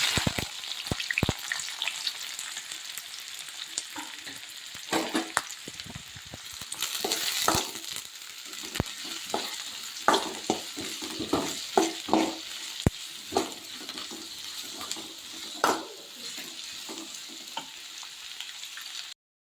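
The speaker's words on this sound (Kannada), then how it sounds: "ಇವಾಗ ಎಣ್ಣೆ ಹಾಕೊಂತ ಇದ್ದೀನಿ ಇವಾಗ ಅದಕ್ಕೆ ಈರುಳ್ಳಿ ಹಾಕೊಂತ ಇದ್ದೀನಿ" Onions frying in oil in a pan, a continuous soft sizzle broken by sharp clatters and scrapes of stirring, recorded close with no talking.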